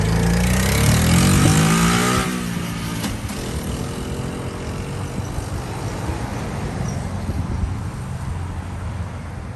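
A 1998 Honda Z50 minibike engine revs hard up close for about two seconds, then settles into a lower idle-like drone for the rest.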